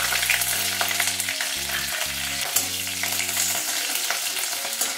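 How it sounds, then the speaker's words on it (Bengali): Nigella seeds and slit green chillies dropped into hot oil for a vegetable curry, a loud close bright sizzle and crackle throughout, with low tonal hum underneath and no talk. "এবার আমি তেলের মধ্যে কালো জিরে আর কাঁচা লঙ্কা চেরাটা দিয়ে দিচ্ছি।"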